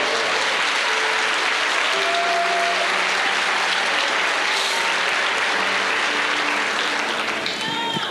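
Steady church congregation applause during a Sunday communion service, a dense wash of clapping that fills the whole stretch with little change in level, while faint tonal voices or singing carry underneath.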